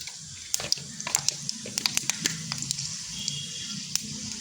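Panch phoron spices sputtering in hot mustard oil in a kadai, a scatter of sharp, irregular pops and crackles above a soft sizzle, close and moderately quiet.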